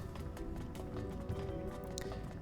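Horse hooves clip-clop in a steady, quick rhythm in the video game Mario & Luigi: Brothership, sounding moderately loud under a continuous layer of game music.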